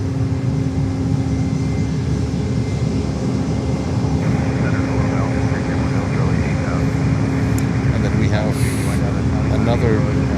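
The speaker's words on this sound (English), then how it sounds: "Another business coming over, a Gulfstream. A 550 is coming over." A Gulfstream G550 business jet passes over Fort Lauderdale airport, a broad steady roar that holds level throughout, with voices talking over it.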